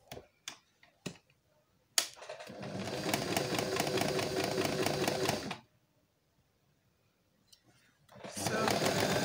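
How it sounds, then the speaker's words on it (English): A sewing machine stitches a collar seam in a fast mechanical whir that lasts about three seconds, then stops and starts again. A few taps and handling clicks are heard close by. "So I'll go over to my machine and sew it by half an inch."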